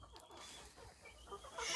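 Chickens of ornamental breeds, including a large Light Brahma rooster, clucking in a backyard coop, with soft scattered calls over a steady background and a brighter noisy burst at the end.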